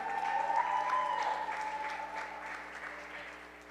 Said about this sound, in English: Everybody, give a round of applause for these two amazing artists.